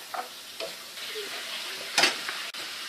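Beans cooking over low heat are stirred in a pot, soft scraping and clinking strokes over a faint steady sizzle, with one louder scrape near the end.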